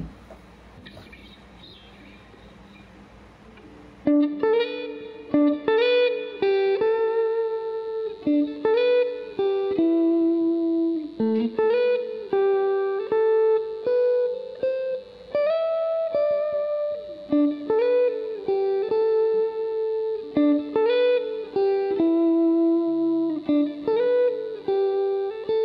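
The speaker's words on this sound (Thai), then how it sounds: "เราซองโซโล่แบบแนวสแตรปนิดนึงเนาะ" A clean Sterling by Music Man Cutlass CT30 SSS electric guitar plays a Strat-style melodic solo of quick, bending single notes, continuous and upfront after a few seconds of quiet hiss.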